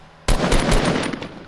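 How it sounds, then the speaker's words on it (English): Automatic gunfire in the Fortnite video game bursts in suddenly after a brief quiet start, a dense loud rattle of rapid shots that holds steady for over a second with no talk. "They start shooting at me a little bit."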